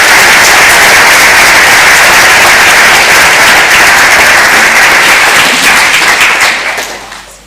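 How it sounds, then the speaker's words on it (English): Loud, sustained applause fills the hall at a model UN conference opening ceremony, a dense wash of many hands clapping steadily for several seconds before tapering off at the end. "Let us give Magdalena a round of applause"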